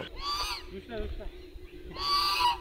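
Farm ducks honk in loud, harsh bursts at the start and again at the end, with quieter scattered sounds between them.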